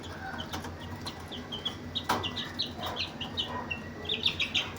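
Chickens and month-old chicks cluck and peep close by, a busy overlapping stream of high chirps and soft clucks with a few louder calls.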